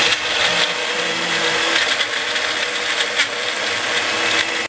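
A Magic Bullet blender crushes cookies into crumbs for a cheesecake crust, a loud, continuous close-up whir that holds steady for several seconds and then cuts off abruptly.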